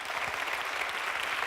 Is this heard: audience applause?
yes